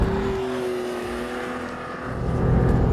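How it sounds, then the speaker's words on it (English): A 2018 Porsche 911 Carrera GTS with a PDK gearbox and sport exhaust drones steadily under load at speed, then the engine note swells louder as the throttle opens near the end. "great noises from the sport exhaust system"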